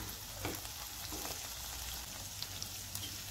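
Chana dal, onion and green chillies fry in a pan of hot oil for a bottle gourd curry, giving a continuous, fairly quiet sizzle with faint crackles.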